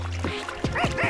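In a French animated series, a dog lets out several quick, high yips and barks close by, uneven and excitable, over a steady background hum.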